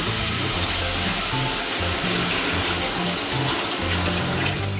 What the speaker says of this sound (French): maintenant je vais le mettre dans l'eau froide